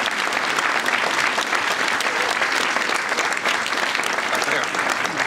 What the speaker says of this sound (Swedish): En applåd för Kjell